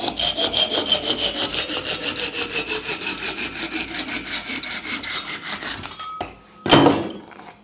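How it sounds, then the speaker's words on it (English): A bamboo saw cuts through a bamboo piece with quick, rhythmic back-and-forth rasping strokes, close and loud for about six seconds, then stops with a single knock. "I'm going to cut through using the bamboo saw."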